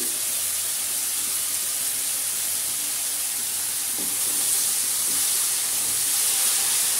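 Malabar spinach stems tipped into a hot pan of vegetable curry with pumpkin nuggets, potato and brinjal, setting off a loud, steady broadband sizzle and hiss that swells slightly toward the end, with no talking.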